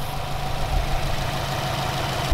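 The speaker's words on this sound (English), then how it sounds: "the turbo, which is making those sweet whooshy noises" A Subaru Forester XT's turbocharged boxer engine idles steadily with a low rumbling drone and a faint airy turbo whoosh above it, continuous and close.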